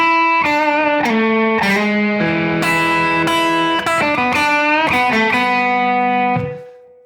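Electric guitar plays a blues lick in a shuffle in E, a clean run of plucked single notes and short bends that rings out and fades at the end.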